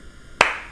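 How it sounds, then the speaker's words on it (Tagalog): One sharp, close hand clap from a children's rhythm exercise in a music class, alone against faint background hiss, with a short ringing decay. "Palakpak."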